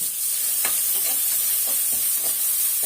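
Onion and a small carrot fry with a pinch of asafoetida, the pan giving a steady sizzle while a spoon scrapes through it in several distinct strokes.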